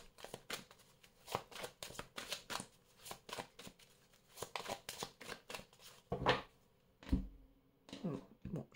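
A deck of tarot cards being shuffled and cut by hand: rapid, uneven bursts of soft riffling and slapping, fairly quiet and close, with a few heavier taps toward the end.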